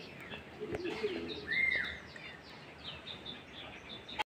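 Pigeons coo and chirp close by, a few short rising calls over a quiet background hiss, with a soft rustle near the start and a sharp knock at the end.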